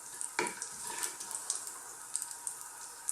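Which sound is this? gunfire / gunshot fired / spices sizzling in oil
spices sizzling in oil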